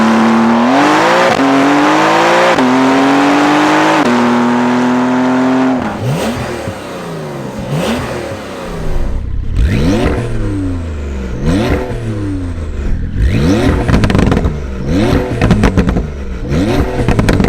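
A Porsche 992 Carrera fitted with an Akrapovic titanium exhaust revs loudly up close: a steady high idle drone for about six seconds, then repeated sharp throttle blips that rise and fall in quick succession, with no talking.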